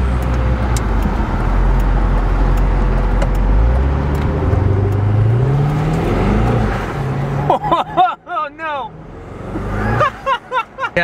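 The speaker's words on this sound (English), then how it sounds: "first drive finally in the Lingenfelter Corvette" Twin-turbo Lingenfelter Corvette accelerating hard, a loud, close engine roar rising in pitch through the first half, then easing off as a person laughs and talks over the lower rumble.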